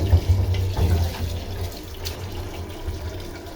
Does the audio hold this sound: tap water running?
yes